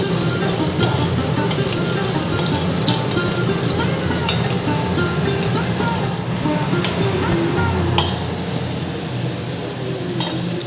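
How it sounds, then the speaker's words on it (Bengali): Potatoes frying in a pan, producing a continuous bright sizzle with occasional crackles and light clinks of stirring, close and steady throughout, with faint indistinct voices in the background. "আলু ফ্রাই করছে।"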